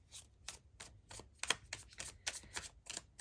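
Oracle cards being drawn and shuffled by hand, heard close and quiet as a series of soft, crisp riffling and flicking bursts at an uneven rhythm, with no talking.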